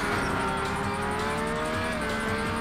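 Lamborghini Diablo GTR racing car engine in a racing game, a loud continuous engine drone holding steady near the listener with a faint tire squeal edge, no talking.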